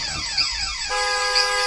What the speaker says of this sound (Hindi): हॉर्न का बजना पहले तो लगातार रहा, लेकिन फिर रुक रुक के पूरी तरीके से बंद हो गया।